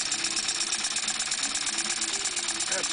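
Model steam beam engine driven by compressed air, fitted with a flyball governor, runs at high speed with a steady, busy mechanical whir and rapid rattling beat, close and continuous throughout.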